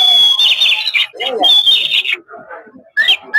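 Sparrows chirp in a close, loud series of bright calls broken by short pauses, with faint voices behind them.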